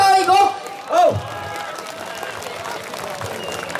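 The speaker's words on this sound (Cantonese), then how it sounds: "俾啲掌聲新界鄉議局" Crowd applause at an evening ceremony of the Sha Tau Kok rural committee, beginning just after a loud amplified voice, then a steady, dense wash of clapping from a large audience.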